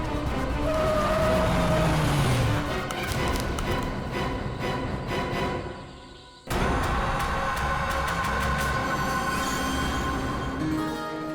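A car being driven, a continuous loud rumble of engine and road noise with a revving rise early on, a short drop around the middle, then a steady rumble again.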